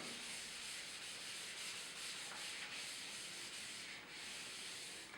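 A steady dry rubbing as writing is erased from a classroom board, continuous and faint with soft strokes, and no voice over it.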